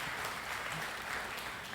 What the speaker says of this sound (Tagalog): pumalakpak kayo ng malakas sa Panginoon